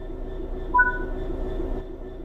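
Steady low rumble of a train rolling in Train Sim 4 on PC, a continuous engine and wheel drone with a brief faint squeal partway through, no talk.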